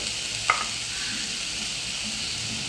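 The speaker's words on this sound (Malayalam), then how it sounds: "ഞാനൊരു ചീനച്ചട്ടി വെച്ചിട്ടുണ്ട്, അതിലേക്ക് നമുക്ക് ഈ പപ്പായ ചേർത്ത് കൊടുക്കാം." Grated papaya for thoran hits a hot cheenachatti pan, setting off a soft, steady frying hiss after a single sharp click near the start.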